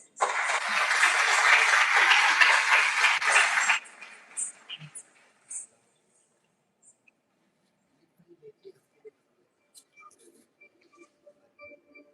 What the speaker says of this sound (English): Let us all bring up a loud applause for her.